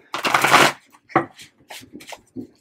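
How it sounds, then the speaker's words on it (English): Tarot cards shuffled in a long riffling burst, then a few shorter soft shuffles and card taps, close and clear with no talking. "I will shuffle again"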